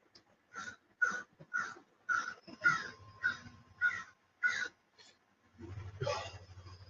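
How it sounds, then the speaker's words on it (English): A bird caws repeatedly in a regular series of harsh squawks, about one per half second, fairly close, followed by a brief low rumble. "hear that bird squawking?"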